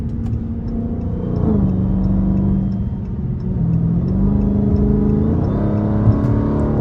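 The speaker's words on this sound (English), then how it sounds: "that quarter intake be singing" Continuous Dodge Charger Scat Pack engine rumble with gentle rises and dips in pitch as it revs, a faint whistling intake tone riding on top, driving in the city at night.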